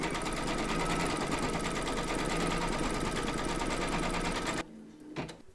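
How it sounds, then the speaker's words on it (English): Embroidery machine stitching a placement outline for appliqué batting in a hoop, a steady rapid mechanical chatter that runs for about four and a half seconds, then stops abruptly, leaving a few faint clicks. "pop your hoop into your machine and stitch round number 1, and that's going to give you your placement outline for your batting"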